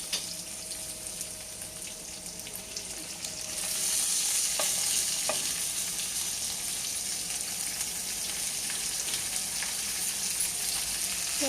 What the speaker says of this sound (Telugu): చూడండి, చక్రాలా కోసుకున్న దొండకాయ ముక్కలు వేసుకుంటున్నామండి.